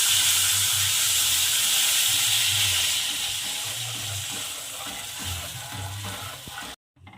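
Rice kheer being stirred in a pan as it cooks: a steady hiss of simmering liquid with soft, rhythmic low stirring sounds, moderately loud, stopping abruptly near the end.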